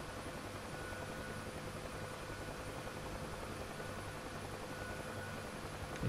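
Helicopter hover taxiing in the flight sim DCS, a steady, even rotor and engine drone heard continuously from inside the cockpit, unchanging in loudness.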